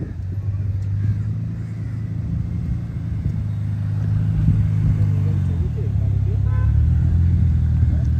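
A sports car's engine rumbles steadily near the Eiffel Tower as it is driven a short way and repositioned, a continuous low drone while people talk in the background.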